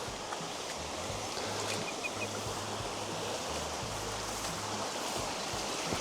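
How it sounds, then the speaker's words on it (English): Steady broadband rush of water flowing in a seasonal creek on a mountain farm, continuous and fairly close with no voices. "And this is the creek."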